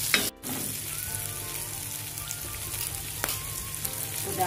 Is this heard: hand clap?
no